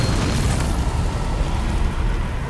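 A loud, sustained blast from the Bombarda spell in the video game Hogwarts Legacy, with a deep rumbling boom that holds steady for a couple of seconds and no voices over it.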